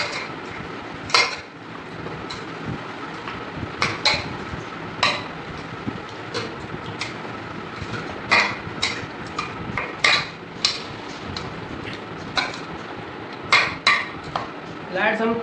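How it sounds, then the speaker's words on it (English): Chicken is mixed with oil in a pan, giving repeated sharp clinks and knocks of a utensil against metal at an irregular pace, fairly close, over a low background. "Now we'll mix it well."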